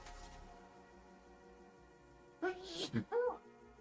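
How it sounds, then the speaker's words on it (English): Faint background sound, then a sudden close sneeze with a sharp intake and burst, followed by a brief voiced sound. "gonna sneeze"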